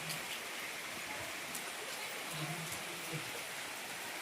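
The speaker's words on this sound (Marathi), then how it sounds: "मस्त पाऊस चालू." Continuous rainfall hisses evenly throughout, a dense wash of falling drops at moderate distance with faint low sounds underneath.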